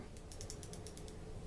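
The anti-reverse gear of a 1978 Pflueger Ohio fishing reel makes a short run of light, rapid clicks. The clicks are faint and close against a low background hum.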